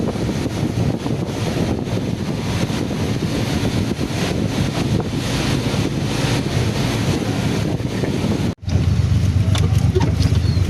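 Steady wind noise buffeting a microphone outdoors on Quezon Boulevard in Poblacion District, a continuous broadband rush with a brief dropout near the end before resuming, no talking.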